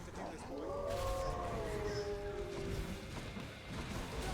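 Cerberus, the three-headed dog in Hades, lets out a long gliding howl over the game's loud battle noise and music, its voice wavering for about two seconds before fading.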